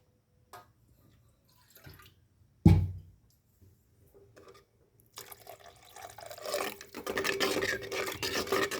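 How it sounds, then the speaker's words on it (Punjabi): Water poured from a jug into a pot of fresh green pea dal cooked in ghee; after a quiet stretch with a single clunk, a steady, close pour builds and grows louder over the final few seconds. "ਥੋੜਾ ਜਿਹਾ ਪਾਣੀ ਹੋਰ ਪਾਵਾਂਗੇ"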